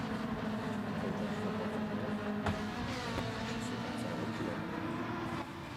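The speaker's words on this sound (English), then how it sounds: "I'm going to turn the cars down because they're quite loud." Race car engines in a racing video game championship, a constant layered drone of several engines with shifting pitch, heard at a fairly low volume.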